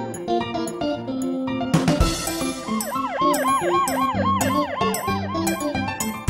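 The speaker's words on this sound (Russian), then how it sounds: "Здесь скорая помощь, по имени Донна." A wailing ambulance siren rises and falls repeatedly, loud and close, over a busy musical backdrop with sharp percussive hits.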